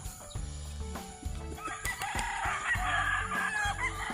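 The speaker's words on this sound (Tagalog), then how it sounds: "Ayan yung mga manukan nila. Pansabong." Fighting roosters crowing on a farm: several drawn-out cock-a-doodle-doo calls overlap with clucking, some near and some farther off, moderately loud in an open outdoor setting.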